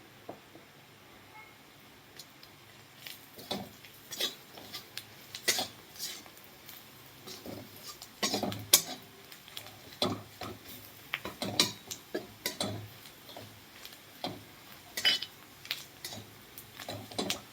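Homemade red chili powder being mixed into bhakri chivda, a spoon clinking and scraping irregularly against a metal bowl, close and fairly quiet, in scattered bursts.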